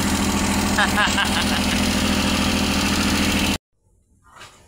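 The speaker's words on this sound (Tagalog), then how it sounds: "success na Jod. Umandar na. One click lang yan" A Suzuki F6A engine fresh from a general overhaul runs loud and steady at idle with a rhythmic mechanical knock, then cuts off abruptly, leaving a quiet moment with faint background noise.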